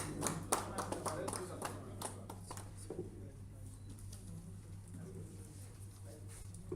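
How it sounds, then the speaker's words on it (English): Scattered hand claps from a small audience, strongest at the start and fading out after a few seconds, with a steady low hum underneath. "Give a round of applause"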